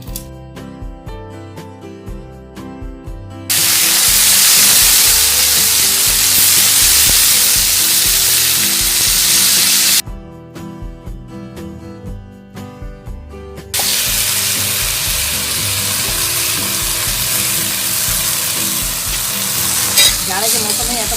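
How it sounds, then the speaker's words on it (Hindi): Rice is fried with cumin in hot oil in a kadhai for pulao, giving a loud, steady sizzle that rises sharply when the grains go in, with stirring scrapes and a quieter stretch between the two bursts. "इसलिए हम चावल फ्राई करके बनाते हैं"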